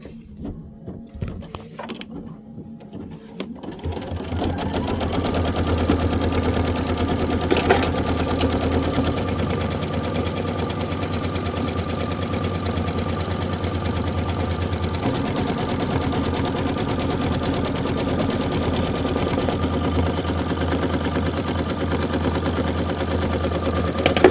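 Sewing machine stitching a bench pillow, running steadily and loudly for over twenty seconds after a few brief start-up bursts, a constant dense motor hum with rapid needle rhythm and no talking.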